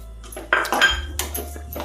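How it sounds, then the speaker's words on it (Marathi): Sesame seeds and peanuts stirred into hot sugar syrup in a pan for til ladoo, giving close, irregular metallic scrapes and clinks of a spoon against the pan over a low steady hum. "असे झटपट मिक्स करून घ्यायचं"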